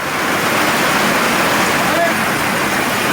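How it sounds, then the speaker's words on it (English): Dense, even hiss of a passing outdoor rain shower, a steady close wash of noise with no breaks and no voices. "Look like we got a rain shower popped up."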